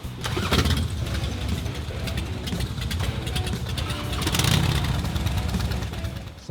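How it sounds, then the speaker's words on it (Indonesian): A chopper-style motorcycle engine cranks and fires up, then runs loud and steady close by, with a rough mechanical rumble throughout and faint voices in the background. "Setelah kita semua kebagian motor, dan gue kebagian motornya JP, kita start ride"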